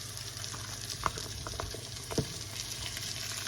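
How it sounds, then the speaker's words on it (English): Onions and other vegetables sizzle and fry in a pot as a home-cooked budget family meal is prepared, a steady close crackle with a couple of brief clinks or stirring knocks, no talking. "We're gonna put our onions and stuff in there."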